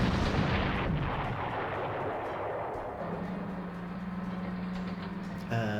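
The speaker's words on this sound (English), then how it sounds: "try to get them with my heavy anti-tank cannons" Heavy anti-tank cannons firing in the Panzer Corps war game: a loud booming blast that rolls off into a long rumbling decay, followed by a low droning tone and a brief second hit at the end.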